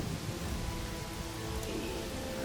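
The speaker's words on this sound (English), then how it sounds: "As much as I love the design of the blood rain and all that, it does kind of make it harder to see" Blood rain falling in the video game Pathfinder: Wrath of the Righteous, a soft continuous hiss of steady rainfall, even and fairly quiet, with no voices over it.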